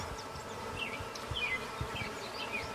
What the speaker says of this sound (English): there's a lot of bees, and that's a good sign